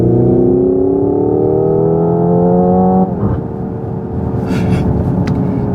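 A 2024 Hyundai IONIQ 5 N electric car accelerating hard with simulated engine sound: a loud, rising synthetic engine note that drops abruptly at a fake gear shift, then climbs again over road rumble.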